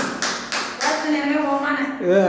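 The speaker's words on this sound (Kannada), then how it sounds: "ಚಪ್ಪಾಳೆ ಚಪ್ಪಾಳೆ ತಟ್ರಿ" A few quick claps from people at a lively family party game, followed by loud excited talking and laughter over them.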